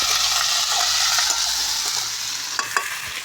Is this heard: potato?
yes